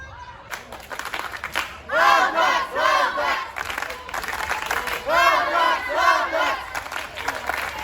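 Audax supporters at a women's football match between Osasco Audax and Guarani, chanting and shouting in loud rhythmic bursts, voices rising and falling in repeated waves over a murmuring stadium background.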